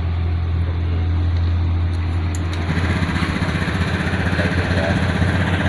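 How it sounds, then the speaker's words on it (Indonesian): A motorcycle engine at idle, running steadily, then catching and settling into a louder, rougher idle partway through, heard close up with a constant low hum underneath. "kita akan hidupkan motornya teman-teman"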